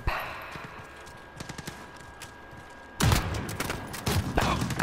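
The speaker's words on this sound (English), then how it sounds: "Shoot him with the Glock." Glock pistol shots in a Call of Duty match, a quiet stretch then a loud burst of rapid gunfire from about three seconds on, repeated cracks close and harsh.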